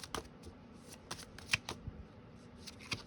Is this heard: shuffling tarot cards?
yes